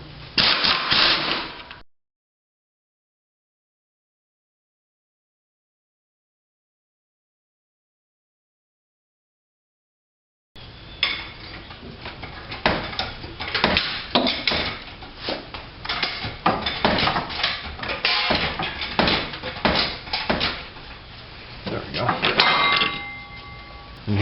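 Rapid bursts from a power tool spinning off engine mount bolts on a Ford Focus while the motor sits supported on a jack, a brief burst then a long, loud rattling stretch of repeated impacts.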